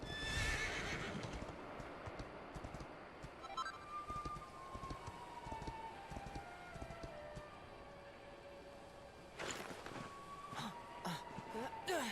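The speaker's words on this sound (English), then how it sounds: "I could still hail a horse from the other bells" A horse in Dragon Quest XI whinnies loudly at the start and again near the end, with hoof clip-clops and light rain-like patter running underneath throughout.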